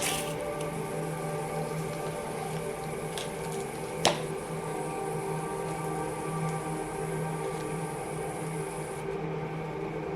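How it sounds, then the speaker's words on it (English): Water poured over soil in a pot holding a bonsai branch cutting gives a steady soft rushing, rain-like patter throughout, with one sharp tap midway and a faint background hum. "Now water the plant."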